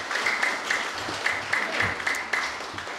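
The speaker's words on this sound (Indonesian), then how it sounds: "kita berikan tepuk tangan bersama-sama untuk para wisudawan yang hari ini diwisuda" Applause for graduates at a theology college graduation ceremony, a sustained crowd clapping at steady moderate loudness throughout.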